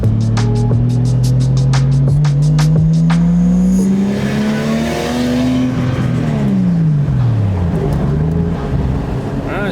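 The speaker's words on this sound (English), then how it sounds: "I'm gonna go on a little drive now." Close, loud engine drone of a Nissan Skyline R34 on the move, rising and falling in pitch through gear changes, with rapid clicking at the start, no talking.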